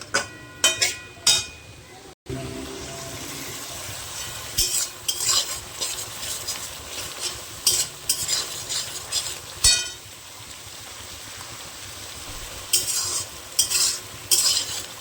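Masala for a raw fish curry being stirred and fried in a pan, with repeated scraping strokes of a spoon against the metal over a steady sizzle, loud and close, with a few sharper clinks along the way.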